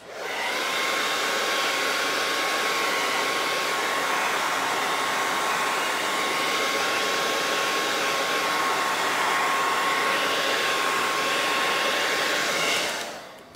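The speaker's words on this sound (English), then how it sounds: "I better blow dry first, hang on." A hair dryer blows steadily to dry freshly applied paint on a distressed background, a loud, continuous whooshing hum with a faint whine that runs unbroken for over twelve seconds before cutting off.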